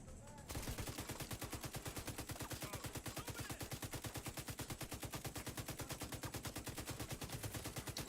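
An enemy in a video game opens up with rapid automatic gunfire after a brief quiet moment, a dense, evenly spaced stream of shots that continues steadily to the end.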